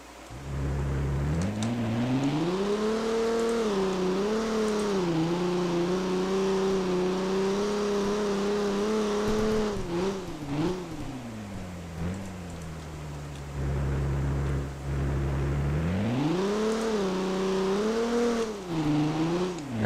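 A Garry's Mod car with an ACF transmission revs up and shifts through gears, its steady engine tone climbing and dropping repeatedly over about twenty seconds, loud and alone.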